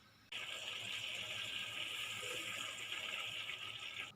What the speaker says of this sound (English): Now I am going to boil these leaves for few minutes.